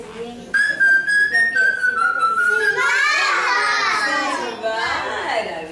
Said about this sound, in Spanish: Silbar.